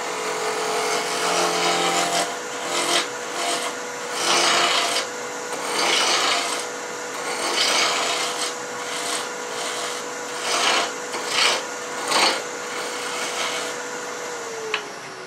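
A wood lathe turns a Christmas tree ornament at about 1700 rpm or faster, the tool giving a steady rasping, scraping cut with repeated swelling strokes and a constant motor hum, loud and close with no talk.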